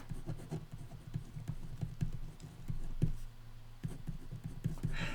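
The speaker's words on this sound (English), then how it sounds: "I need to make a note." Handwriting a note, likely pen on paper: a quick, irregular run of soft scratches and taps over a low room hum, close and fairly quiet, with a brief pause partway through.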